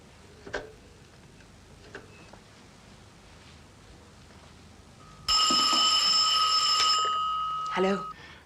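A telephone rings loudly for about three seconds in a quiet indoor room, a bright trilling bell burst following a few faint clicks and handling knocks.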